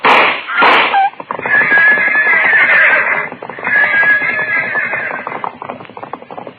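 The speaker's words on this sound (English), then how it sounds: "The pack horses reared at the shot." Pack horses neighing and whinnying loudly in a radio drama, with a shrill whinny followed by sustained agitated neighs and scattered hoof clatter over several seconds, no voices.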